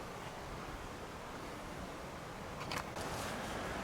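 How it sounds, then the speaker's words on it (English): Wind rushes steadily across the microphone in a dull, broad roar outside a Russian Bereg UP-5 tent with a stove, swelling into a stronger gust near the end. "It's very windy today, very gusty"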